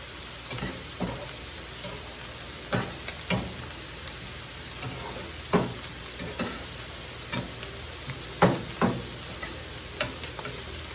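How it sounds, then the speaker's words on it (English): Hamburger meat with peppers fries in a pan under steady sizzling while a utensil stirs it, giving repeated scraping knocks at uneven intervals, close and without talk. "stir this a little bit"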